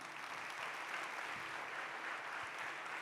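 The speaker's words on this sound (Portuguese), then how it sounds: "Quem crê nisso? Pode aplaudir então" A church congregation applauds together, a steady wash of clapping hands that fills the space for a few seconds with no voices on top.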